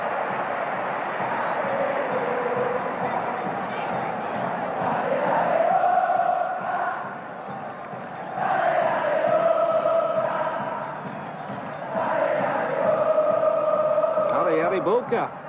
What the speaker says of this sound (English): the crowd really getting behind their team and warming to this one